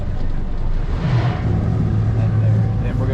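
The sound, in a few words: outboard motors running on a Stabicraft 2500 boat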